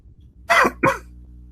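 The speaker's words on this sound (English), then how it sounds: "Sorry, I'm coughing." One person coughs twice in quick succession, two short, close, harsh bursts against a quiet indoor background.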